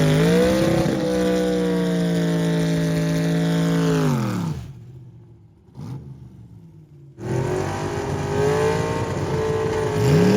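A gasser drag race car, a 1930s-style B-Gas class sedan with a four-speed, roars hard off the line with loud rising engine revs, cuts out briefly near the middle, then returns with renewed roaring acceleration.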